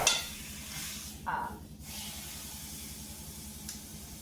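Meat browning for a pot roast gives a steady, soft sizzle and hiss from the pan, with a brief louder burst of spatter early on and no talking over it.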